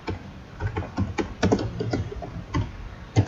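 Fingers tap quickly on a computer keyboard to enter a label in a spreadsheet, a close, soft run of irregular key clicks.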